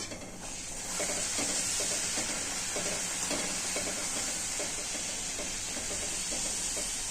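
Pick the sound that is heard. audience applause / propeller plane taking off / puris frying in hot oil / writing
puris frying in hot oil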